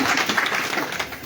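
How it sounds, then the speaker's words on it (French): An audience at a Lenten church retreat gives a brief burst of applause, close and fairly loud, fading slightly toward the end with no speech over it. "on va s'applaudir"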